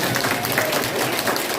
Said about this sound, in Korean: 이 대목에서 박수 치셔야 됩니다